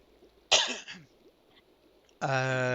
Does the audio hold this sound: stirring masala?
no